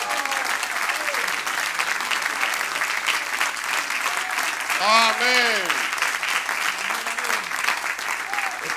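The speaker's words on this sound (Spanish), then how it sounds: "Demos un aplauso a él" Church congregation applauding at a worship service, a steady wash of clapping throughout, with a preacher's voice speaking over it.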